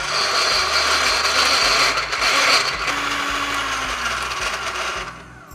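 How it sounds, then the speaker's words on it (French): A 35-year-old hand-cranked egg beater whips egg whites to stiff peaks, giving a steady loud whirring rattle of meshing gears that runs without a break and eases off at the very end. "Nous allons donc battre en neige les blancs d'œufs."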